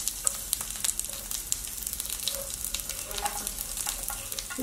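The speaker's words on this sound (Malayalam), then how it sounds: "ഓയിൽ ഇപ്പം നന്നായിട്ട് ചൂടായിട്ടുണ്ട്. ഇതിലേക്ക് ഞാൻ കുറച്ച് കറിവേപ്പില ചേർത്ത് കൊടുക്കുന്നുണ്ട്" Curry leaves, ginger and garlic sizzling in hot oil for chicken 65, a steady crackling fry with dense, fairly quiet pops and spits and occasional stirring scrapes, no voice.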